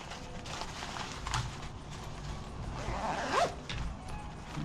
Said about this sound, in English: And then zip down.